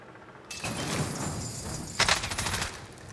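Burst of rapid gunfire-like popping from a decoy grenade in the Warzone video game, starting after a brief quiet lead-in and running continuously, with a sharper, louder crackle partway through.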